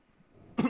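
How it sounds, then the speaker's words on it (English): A single short, throaty cough from a person who is a little sick, close to the mic, ending a quiet stretch. "I'm sorry for the cough"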